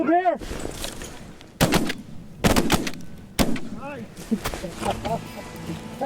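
Shotguns fire while hunting white-fronted geese, with several sharp, loud blasts spread out over the scene, some in quick pairs, as goose calls and voices sound between the shots.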